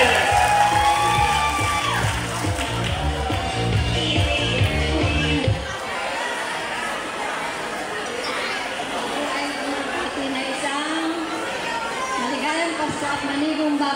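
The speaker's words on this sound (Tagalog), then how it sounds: "palakpakan ngayon sa mga hiyawan ang mga naging former pupils" Former pupils at a school grand alumni homecoming cheering, whooping and clapping as a crowd, loud chatter and shouts filling the space, with amplified music cutting out partway through.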